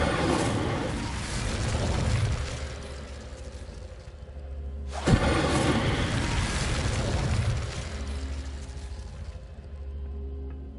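An Incendio fire spell from Hogwarts Legacy erupts in two loud roaring bursts of flame, each a sharp onset swelling into a broad whooshing rumble that fades over several seconds.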